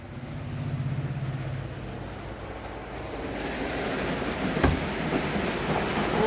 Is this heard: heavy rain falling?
yes